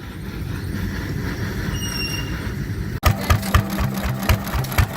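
A 1.5 horsepower McCormick engine at a heritage gas and steam show runs an ice cream maker with a rhythmic mechanical chugging and clatter, loud and close, with a sharp knock partway through.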